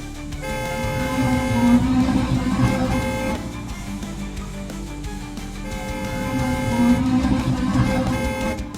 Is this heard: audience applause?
no